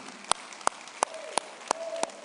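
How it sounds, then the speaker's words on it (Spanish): Six even claps at a steady beat, like a group clapping together in time, with faint background murmur, at a church service. "Démosle un aplauso a todos los choferes que están aquí."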